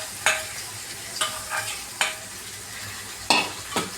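A spoon stirs batter frying in hot oil, giving about five sharp scraping strokes at uneven intervals over a faint continuous sizzle, with no talking.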